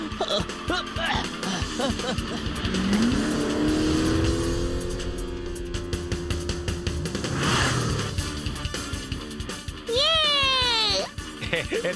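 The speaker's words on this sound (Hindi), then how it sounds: "ओह नो, टेम्पो अन्ना की कार तो स्टार्ट हो गई। अब मुझे पूरी स्पीड से आगे बढ़ना होगा" Cartoon race car starting and speeding off, engine roars rising and falling with tire squeals and swooshing effects, mixed with animated character voices and music.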